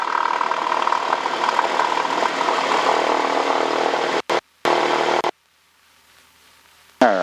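A small training airplane's engine runs at full throttle for takeoff, a loud, steady roar filling the cabin for about four seconds before cutting out abruptly, then a brief burst, near-silence, and a final loud return.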